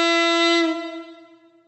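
A shofar ram's horn sounds a single tekiya long blast, a steady sustained bright horn tone that holds for over half a second and then fades, heard alone and close.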